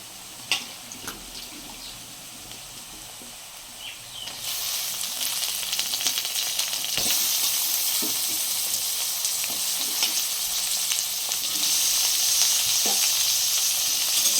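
Chopped potatoes frying in a pan after lightly fried onion, a soft crackle that swells into a steady, louder sizzle with occasional stirring scrapes and ticks.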